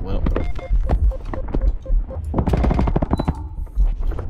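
Rapid gunfire from a weapon in a video game, dense bursts of close, loud shots repeating through the whole stretch, with a player's voice talking in between.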